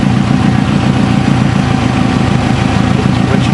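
Turbocharged car engine running at close range, a loud continuous idle with a steady low rumble and a fast, even pulsing, and no voices.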